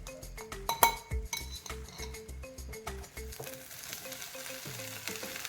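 Khoa stirred into roasted maida flour in a pan, with repeated rhythmic scraping and clinking of a spoon against metal and a soft sizzle, heard alone at close range.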